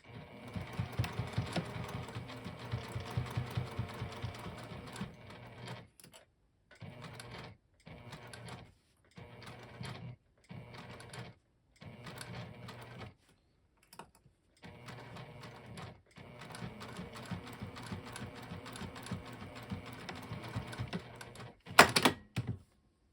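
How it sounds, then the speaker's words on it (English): Sewing machine stitching binding onto a boxy fabric tool pouch, running in a steady rhythmic whir through several bursts separated by short pauses, close and moderately quiet, with a brief louder clunk near the end. "we're going to sew 1/8 of an inch from the edge of the binding"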